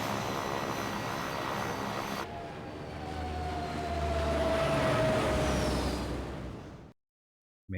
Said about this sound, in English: Have you ever flown a seaplane,